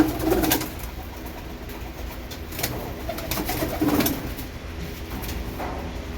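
Pigeons feeding on scattered grain, giving soft low coos now and then over a busy rustling, pecking background, close by.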